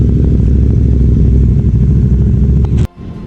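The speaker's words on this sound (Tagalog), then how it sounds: "ganda ng tunog nung Safe Moto 800 MT niya" A loud CFMoto 800MT motorcycle engine rumbles steadily up close, deep and throbbing, then cuts off abruptly near the end, leaving a quieter hum.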